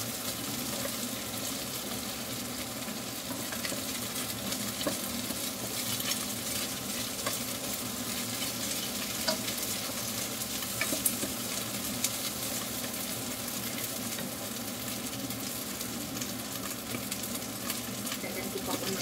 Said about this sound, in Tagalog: yung langis ng sardinas yun ang magpapaluto dito sa sibuyas